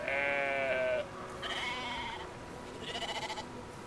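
In the video game Brothers: A Tale of Two Sons, a sheep gives several separate bleats, one long wavering call followed by shorter, quivering ones, moderately close against quiet ambient game sound.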